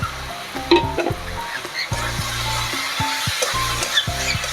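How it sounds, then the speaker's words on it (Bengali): Spiced goat liver masala being stirred and fried in a pan gives a continuous sizzle, with a steady tonal hum layered over it and occasional scraping stirs. "সবগুলো ভালো করে নাড়াচাড়া করে নেব মশলাটাকে ভালো করে কষতে দেবো"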